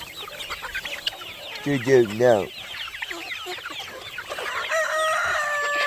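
Chickens cluck busily around a homestead and a rooster crows clearly partway through, close and moderately loud, while a person speaks briefly in the background.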